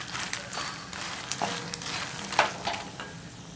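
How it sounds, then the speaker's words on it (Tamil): Lotus seeds (makhana) frying in hot ghee, a soft continuous sizzle with occasional light pops and stirring clicks, fairly quiet and close, with no talking. "இந்த சூடான நெய்யில் 1 கப் அளவுக்கு இந்த தாமரை விதைகளை போட்டு நல்லா இப்போ வதக்கிக்கலாம்"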